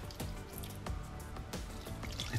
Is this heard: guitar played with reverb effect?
no